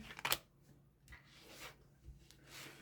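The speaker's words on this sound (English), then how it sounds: "Now, I shuffle these off camera really well, but I like to do them again on camera for you." A deck of tarot cards is shuffled by hand in quick, soft riffling bursts, strongest at the start, then fainter rubbing passes, close and quiet.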